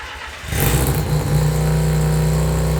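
Mazda REPU rotary engine with custom individual throttle bodies on a dyno, bursting from a low idle into a loud, raspy, sustained high-rev roar that holds steady, close up.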